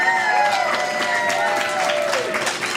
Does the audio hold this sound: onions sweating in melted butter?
no